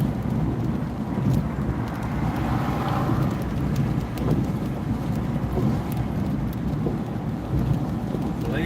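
Steady rain falls outdoors on a Sunday as a dense, continuous wash of noise, loud and unbroken throughout, with no voices.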